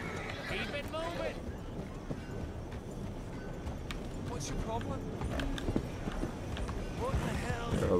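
Horse hooves clip-clop at a walking pace in Red Dead Redemption 2, with soft rhythmic thuds repeating under someone talking, along with faint creaks and distant game ambience.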